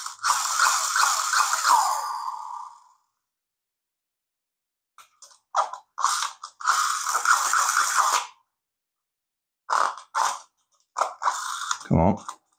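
A cheap plastic Easter pressing-chick toy with a flywheel motor, squeezed to run: bursts of whirring, ratcheting gear noise separated by pauses, close up.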